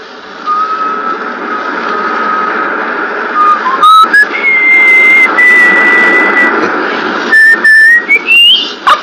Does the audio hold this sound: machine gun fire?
no